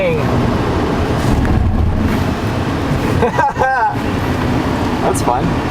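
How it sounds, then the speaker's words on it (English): An Audi car braking hard, heard from inside as a loud steady road and engine roar with a brief squealing burst partway through as the car stops. "And hard braking."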